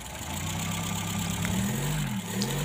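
A car engine idles just after starting, running slightly rough with a steady low hum and faint uneven wavering, close and continuous.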